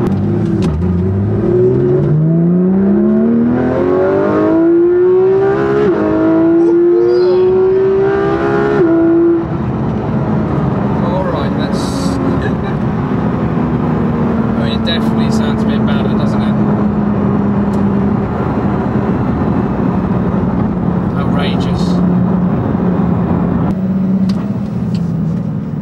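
Porsche GT3 RS fitted with a Sharkwerks exhaust revs hard and loud, its pitch climbing steadily toward about 9,000 rpm before easing off into a lower, steady engine drone.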